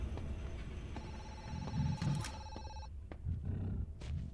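A telephone in the video game Zoochosis rings in a steady repeating trill for a few seconds, then stops, over low ambient game rumble.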